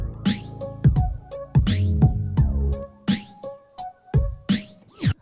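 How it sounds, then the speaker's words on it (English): Jet effect from a Pioneer DDJ-REV1 controller running Serato DJ, sweeping a whooshing flanger-like tone over punchy beats and stabs, loud with no talk. "it used to be known as the jet effect. And it sounds like this."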